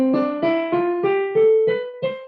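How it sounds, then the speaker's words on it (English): Eight notes climb stepwise in an ascending major scale, each plucked or struck at an even pace, sustained tones ringing into the next. "If you're going to play a major scale, it's going to sound like this."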